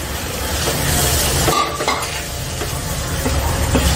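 Quarter kilo of minced meat keema sautéed and stirred in a pan with blended masala, a steady close frying sizzle with scraping spoon strokes against the pan and a few clinks.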